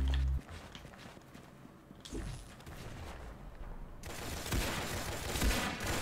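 Gunfire from the Roblox shooter game Arsenal: a flurry of sharp bursts, thickest in the second half, over a busy game backdrop with no voices.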